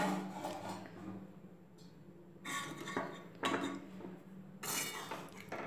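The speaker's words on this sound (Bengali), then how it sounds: "এবার ঢাকনাটা খুলে নেব।" Metal clinks and scrapes of a lid lifting off a pot of shol fish curry, quiet rubbing and a few brighter clatters over a soft background hiss.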